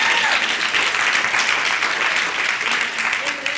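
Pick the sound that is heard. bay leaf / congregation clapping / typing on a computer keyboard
congregation clapping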